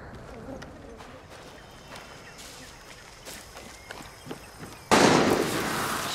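Gunfire in the Far Cry 6 video game on an island, a loud sudden burst of shots cutting in after quieter footsteps and ambience, with someone talking earlier.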